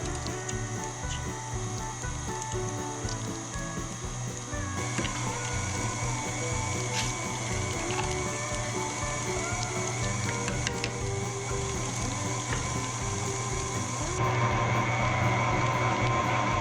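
A meat grinder churns chunks of black bear meat into ground meat, its motor a loud, steady mechanical drone with a rhythmic low pulse that runs unbroken and grows slightly louder near the end.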